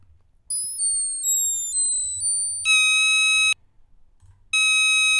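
Bright electronic synth tones stepping through random pitches, a few sliding notes followed by sustained chords, cutting off and returning after a pause.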